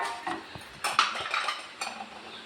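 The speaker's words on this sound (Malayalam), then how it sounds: "ഇനി ഈ നട്ട്സ് വറുത്ത അതേ പാനിലേക്ക് തന്നെ നമുക്ക് ഈ അവിൽ ഇട്ട് കൊടുക്കാം." Flattened rice is tipped into a pan still holding oil from frying nuts, producing several short clattering scrapes and knocks of a utensil against metal, separated by quiet gaps.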